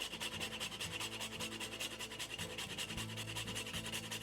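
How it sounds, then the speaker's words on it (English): Whole nutmeg grated by hand into a Swedish meatball mixture, giving rapid, steady rasping strokes that run close and continuous throughout, with a faint low tonal hum underneath. "I'm going to grate in some more nutmeg."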